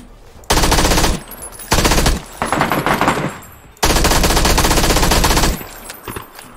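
An MP5K submachine gun in PUBG fires in long sustained bursts, loud and close, with rapid continuous rattling broken by short pauses between three main volleys.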